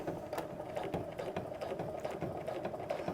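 A long-arm quilting machine stitches straight lines along a ruler through half-square-triangle quilt blocks, giving a quiet, fast, even mechanical chatter of needle strokes that runs throughout.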